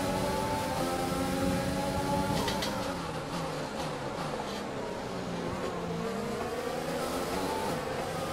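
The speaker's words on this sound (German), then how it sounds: "Halt der Mercedes-Motor." Mercedes-powered Formula 1 race car in the video game F1 2020, a steady high-revving whine with layered harmonic tones rising and falling as gears shift, loud and continuous throughout.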